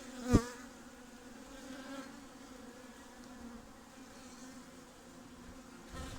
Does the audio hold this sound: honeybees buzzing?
yes